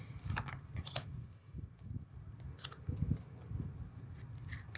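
Tarot cards being shuffled by hand, soft close crisp riffling and flicking in quick irregular bursts, quiet with no talking.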